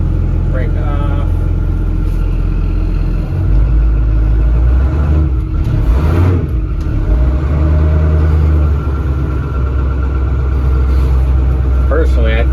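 A Ford F8000 truck's 636ci V8 runs loud and steady at close range, a deep low rumble throughout with a brief rise in revs near the middle, while people talk faintly over it.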